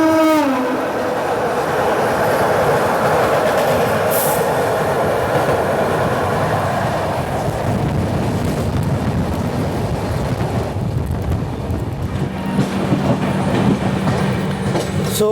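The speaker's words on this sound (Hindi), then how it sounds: "अजमेर चंडीगढ़ वंदे भारत एक्सप्रेस।" The Ajmer–Chandigarh Vande Bharat Express runs past, a loud, sustained rumble of wheels on rails with rhythmic clickety-clack, a brief high squeal early on and a steady drone continuing to the end.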